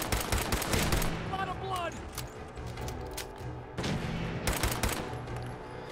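Bursts of rapid gunfire and heavy shots in Fallout 4, loud and close, with repeated volleys breaking out at the start and again midway over steady background game sound.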